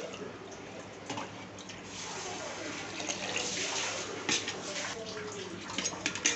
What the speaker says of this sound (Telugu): 2 గ్లాస్ రైస్ కాబట్టి 4 గ్లాస్ వాటర్ వేసుకుంటున్నా ఈ గ్లాస్తో